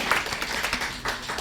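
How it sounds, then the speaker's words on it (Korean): A short burst of audience clapping at a senior citizens' community forum, dense and steady, moderately loud, with no talk over it. "다시 한번 큰 박수 부탁드리겠습니다."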